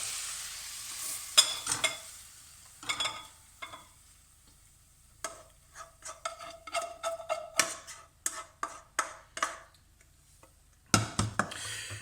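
Cooked sausage is scraped from a pan into a clean bowl, a run of quick utensil clicks and scrapes against the cookware in irregular bursts, close and moderately quiet, with a soft sizzle of hot oil beneath.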